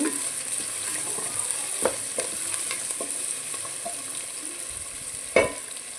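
Chopped carrot fries in a pan for semiya upma, a soft steady sizzle broken by occasional scrapes and taps of a spatula stirring close by.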